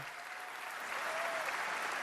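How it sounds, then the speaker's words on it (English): A large audience at a World Cup draw event applauds in a steady, continuous wash of clapping, loud and unbroken throughout. "a big round of applause for the President of the United States of America"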